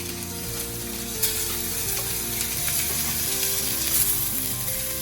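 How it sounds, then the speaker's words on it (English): Sous-vide pork chops sear in a hot pan, giving a loud, steady sizzle with occasional pops and a brief clatter, over a faint background music bed. "we gotta sear it, both sides"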